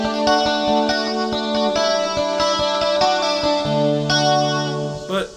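A Strat electric guitar played through a 12-string effects patch, chiming chorused notes and strummed chords with a shimmering doubled tone, close and fairly loud, ending on a sustained chord.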